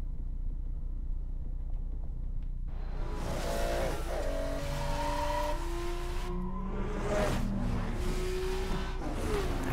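Racing cars in a sprint race in Need for Speed: Most Wanted (2012) roar with a deep, loud engine drone that swells as the cars launch, with shifting gear whines and tire squeals layered on top.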